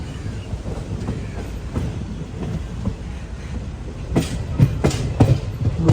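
The Maveli Express from Mangaluru rolls slowly into platform three at Thiruvananthapuram Central after rain, its wheels clattering steadily over rail joints with sharper clicks near the end, heard up close and continuous.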